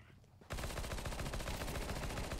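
Rapid automatic gunfire from the video game Counter Strike 2 bursts in suddenly after a quiet moment and rattles on continuously, loud and dense.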